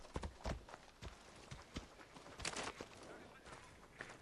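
A horse's hooves clip-clop in the video game Assassin's Creed Odyssey, a series of distinct thuds in an irregular walking rhythm, fairly close, over a faint background hum.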